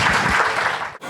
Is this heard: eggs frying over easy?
no